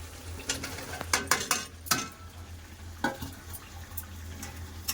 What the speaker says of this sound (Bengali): আলু দিয়ে মশলাটা ভালো করে কষে নেবো